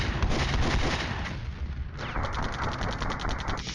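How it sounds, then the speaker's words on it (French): Mortar fire in the Cold War strategy game Flashpoint Campaigns, dense rumbling booms and crackling impacts, followed by a rapid repeating mechanical clatter. "Là, on a des tirs de mortier."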